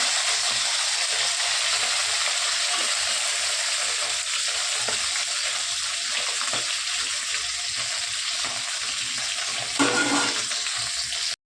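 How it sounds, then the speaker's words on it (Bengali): Fish fries in hot oil in a pan, a loud, continuous close-up sizzle with a brief stirring or shifting sound near the end. "তো দেখো, মাছ ভাজা হয়ে গেছে"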